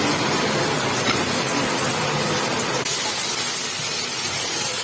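Onions and tomato sauté in hot oil for capsicum rice, giving a loud, steady, close sizzling hiss that fills the whole stretch and shifts slightly in tone partway through, with no voices.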